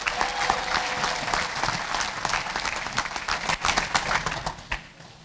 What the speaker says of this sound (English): If we can get a round of applause for everybody,